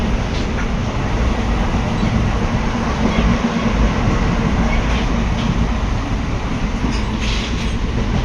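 Train rolling between Gonda Junction and Badhni Junction in India, a steady loud rumble of wheels and carriage noise running throughout with faint clatter, heard from inside the coach.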